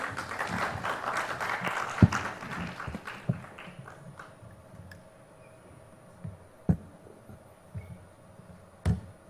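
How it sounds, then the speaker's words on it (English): Conference audience at a keynote talk applauding, dense clapping at first that thins out after a few seconds into scattered claps and a few loud thumps near the microphone. "Please welcome Mr. Gupta with a loud round of applause."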